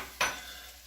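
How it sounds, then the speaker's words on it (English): Leeks drop into a pan of melted butter and olive oil, giving one sharp burst of sizzling and frying that eases into a softer, steady crackle, close and alone. "Next thing we're going to throw in are the leeks."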